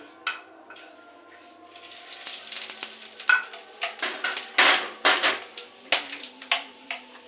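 Panch phoron spices hit hot oil for a meat curry, crackling and sizzling close up, with sharp popping bursts that grow busier and louder as the seeds fry.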